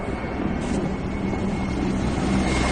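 Military aircraft flying low over village houses, a continuous rumbling engine roar that stays steady and fairly loud for the whole short stretch.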